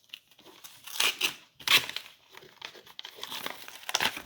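Butcher paper packaging crinkling and rustling while a lightsaber package is unboxed, in irregular close bursts of crumpling and tearing, moderately loud, with no talking.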